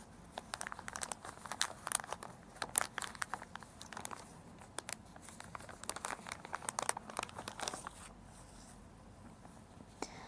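Packaging around a valve assembly for an injector being opened by hand, with close, steady crinkling and rustling of plastic and oil paper in quick irregular bursts throughout.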